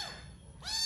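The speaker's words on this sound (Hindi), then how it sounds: "हमारी छोटी सी बिल्ली तड़प रही है नीचे आने के लिए।" A small cat meows twice, a short cry at the start and a rising, slightly louder one near the end, both close and clear over a faint low background rumble.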